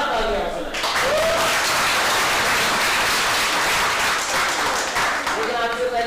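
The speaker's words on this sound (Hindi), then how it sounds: "Let's give them a hand." Loud, sustained audience applause for a cohort team at a leadership day event, thick continuous clapping with brief voices at the start and end.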